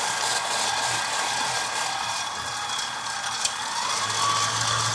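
A KitchenAid 7-quart stand mixer runs with a steady, close motor whir and a faint gear hum, holding even throughout.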